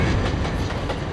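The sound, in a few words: train arriving at station in Trainz Simulator video game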